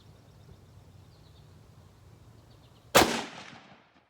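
A single loud, close rifle shot from an M.24/47 Yugo firing PPU 8x57 Mauser ammunition cracks out of quiet outdoor ambience and trails off in a short echoing decay.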